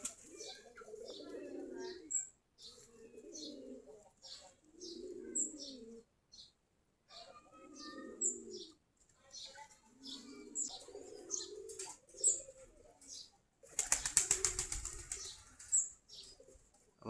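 A flock of native Giribaz pigeons makes soft low cooing in repeated rounds. Bursts of wing flapping break in now and then, with one louder flurry near the end, all fairly faint.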